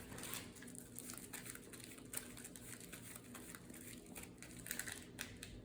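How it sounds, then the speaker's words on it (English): Marvel Champions cards being shuffled by hand on a tabletop during a card game, producing a quiet, continuous rapid patter of riffling and crisp snaps close to the microphone. "And then we will shuffle up the encounter deck here."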